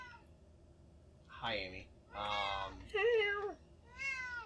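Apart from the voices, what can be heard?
cat meowing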